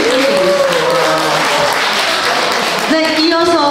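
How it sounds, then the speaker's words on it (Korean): An audience applauds after a Chuseok holiday music concert performance at a live restaurant, with dense, sustained clapping and some tonal music or voices mixed in, loud and continuous throughout. "여러분들 다시 한번 우리 시아와 김지연 씨에게 큰 박수"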